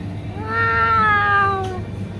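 A single drawn-out cat meow, clear and close, rising and falling over about a second with steady background hum.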